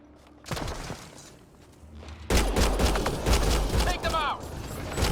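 Gunfire erupts in Mass Effect Andromeda, starting with a sharp shot and a lull, then a loud dense fusillade of rapid shots and impacts mixed with game effects.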